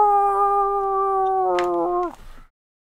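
A person imitates a howl, a steady sustained tone with harmonics that holds for about two seconds, then wavers and breaks off into silence.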